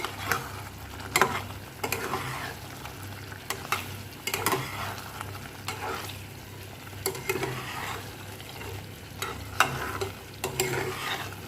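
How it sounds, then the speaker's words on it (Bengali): Fried paneer pieces stirred and cooking in a pan with sugar and green chilli, a soft continuous sizzle broken by repeated scraping stirs and light clicks of a spatula, close and fairly quiet with no talk. "এইবার ভাজা পনিরগুলো আমি দিয়ে দেবো।"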